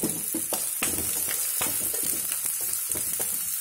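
Onions frying in a pan for a fish curry give a close, continuous crackling sizzle, broken by repeated scraping strokes of a stirring spoon, with no talking.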